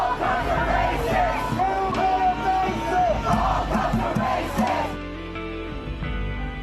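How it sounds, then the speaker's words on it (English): Protesters at a march in Charlottesville scream and yell at police, a dense, loud crowd roar with overlapping shouted voices that eases slightly after about five seconds. "protesters screamed at the cops"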